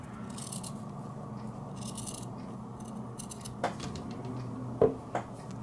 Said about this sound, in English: And you can slide your scissors in there